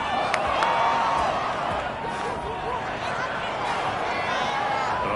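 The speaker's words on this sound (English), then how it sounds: "Oh, this crowd does not like that call." Football stadium crowd reacts to a penalty call in a Chicago Tigers versus Mexico City Diablos game, a dense continuous roar of voices and jeers with sharp individual shouts rising out of it.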